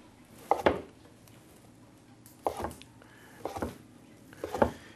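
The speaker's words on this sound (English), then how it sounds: "we're going to take a couple of blocks of seitan here, and we're going to cut them into small strips" A knife slicing blocks of seitan into small strips on a cutting board, four distinct chopping knocks in pairs spaced about a second apart, fairly quiet and close, with no voice.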